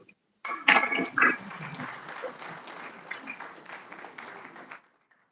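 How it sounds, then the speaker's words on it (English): Applause breaks out after a lecture at an anniversary and hall of fame event, a burst of many hands clapping that peaks early, then settles into a steady patter before stopping abruptly. "Another round of applause for him"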